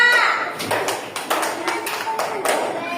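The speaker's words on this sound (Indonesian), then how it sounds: "Tepuk tangan dulu untuk kelompok 4" Classroom applause for a student group after their presentation, a burst of scattered hand claps from a room of pupils, close and uneven, with a teacher's voice talking over it.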